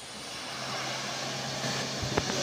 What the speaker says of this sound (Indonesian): Nampak begitu tangguh kekuatan mesin dari truk kol diesel ini